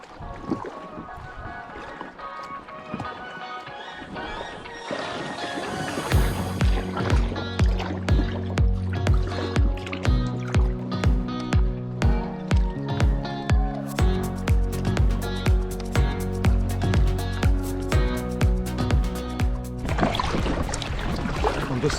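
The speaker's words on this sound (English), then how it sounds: "I'm just paddling back to camp now after having paddled down to the end of the lake." A pack raft is paddled across a lake in Southwest Tasmania. Rhythmic paddle strokes and water splashes repeat steadily and close by, nearly alone.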